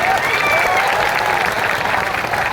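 A dense crowd at a Maratha political rally for Manoj Jarange Patil bursts into loud, continuous applause that fills the space evenly from start to finish.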